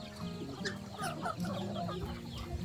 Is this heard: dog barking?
no